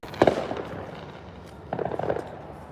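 Fireworks going off outside around the third of July: a sharp, crackling burst early on, then a quieter stretch, then a second volley of popping crackles a moment later.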